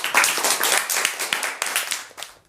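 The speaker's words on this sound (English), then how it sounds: "Round of applause, everyone." A school celebration assembly audience claps together for about two and a half seconds, a close, steady patter of many hands with distinct individual claps pulsing through it.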